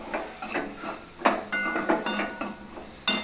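Raw green mango pieces being stirred with spices and salt for methamba, a quick series of close scraping and clinking strokes of a spoon against a pan, irregular and moderately loud.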